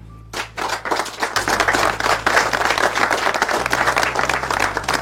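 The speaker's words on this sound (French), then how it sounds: "Je vous demande de les applaudir." An audience breaks into loud, sustained applause, many hands clapping densely and steadily from start to finish after a brief quiet opening.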